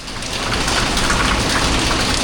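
Heavy rain pours down outside a house, a loud, dense, unbroken hiss that fills the whole moment with no speech.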